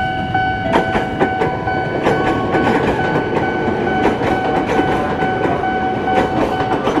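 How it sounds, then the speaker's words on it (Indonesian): KRL commuter train passing a Jakarta level crossing toward Matraman station, a loud continuous rumble with rhythmic clickety-clack of wheels over rail joints and steady tonal hum, close by and sustained throughout. "KRL itu arah stasiun Matraman"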